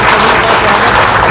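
Loud, dense applause from a crowd at a political gathering addressed by former MLA Anand Shukla, sustained and even throughout with no voice over it.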